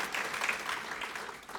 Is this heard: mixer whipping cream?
no